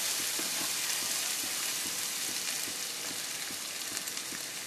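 Pointed gourd (potol) frying in plenty of oil with turmeric, salt and garam masala, giving a steady, dense sizzle with a few faint pops and no talking.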